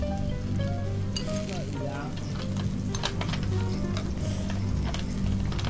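Food frying and sizzling on a hot plate at a meal on a family trip in Hokkaido, a steady loud crackle throughout with scraping and stirring, people talking over it.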